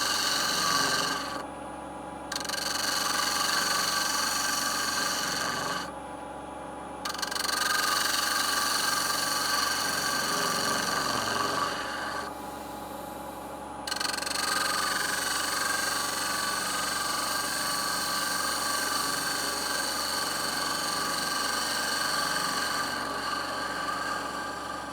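A wood lathe spins a lidded box as a freshly sharpened spindle gouge takes gentle cuts, giving a steady motor drone with a raspy scraping texture that drops off briefly three times.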